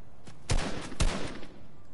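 Gunfire in the Fortnite battle royale game: two sharp, loud shots about half a second apart, followed by a few fainter pops, with no talking.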